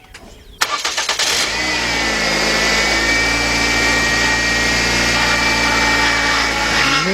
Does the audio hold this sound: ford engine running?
yes